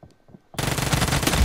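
Rapid automatic gunfire in a multiplayer team deathmatch shooter bursts in suddenly after near silence, loud and close, sustained to the end.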